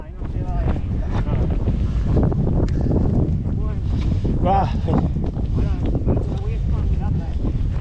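Strong wind buffets a microphone outdoors during a long-distance mountain trail race, a constant loud rumbling roar throughout, with people talking close by under the gusts.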